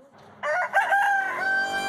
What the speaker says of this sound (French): Ah, ta gueule, le coq, là, c'est fini.